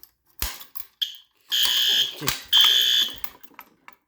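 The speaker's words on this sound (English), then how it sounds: "I'm ready to pull the fire alarm." A System Sensor P2R horn strobe fire alarm, newly installed, blares in loud piercing bursts, separated by brief pauses and sharp clicks, close and harsh.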